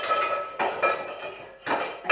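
A Le Creuset cooking pot is handled in a home kitchen while making fish stock, giving a few close metallic clanks and knocks in separate bursts, with no talking.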